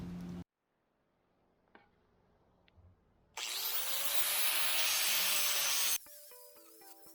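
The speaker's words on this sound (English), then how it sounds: "At this point, I'm shaving off mass so that I can fit the stone through my saw." A power tool cuts away mass from a stone block, loud and steady for a few seconds after a quiet stretch with a few faint knocks, then stopping abruptly.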